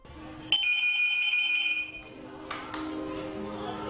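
A telephone rings with an urgent emergency call at a police station in Zizhong County, Sichuan, producing a steady high electronic tone for over a second, followed by fainter clicks and tones over background murmur.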